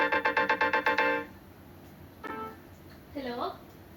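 A phone ringtone from an incoming call by a food delivery partner plays a quick repeating burst of electronic beeps for about a second, then stops, followed by a few faint chirpy tones and brief quiet talk.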